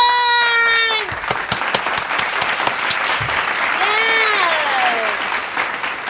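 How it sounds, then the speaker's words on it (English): Applause at a home slime-making session, a brief burst of clapping under cheerful, excited voices and squeals that rise and fall across the clip. "Let's just give a little round of applause to our new slime!"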